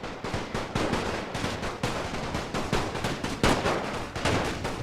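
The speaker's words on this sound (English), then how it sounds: "Enemy mortar fire." Enemy mortar and artillery fire in The Great War, heard as dense, continuous crackling volleys of shots with heavier impacts scattered through, loud and steady with no voices.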